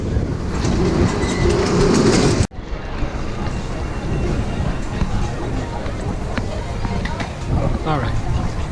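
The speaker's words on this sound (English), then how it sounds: "This train is stopping." An airport terminal shuttle train rumbles loudly, then a sharp cut leaves a quieter rolling, braking hum as it slows to a stop, with an automated announcement voice heard over the cabin noise.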